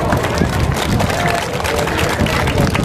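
Audience at a Malegaon education event clapping, a dense, steady wash of many hands mixed with crowd murmur throughout, loud and close.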